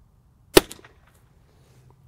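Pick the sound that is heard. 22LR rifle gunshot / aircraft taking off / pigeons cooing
22LR rifle gunshot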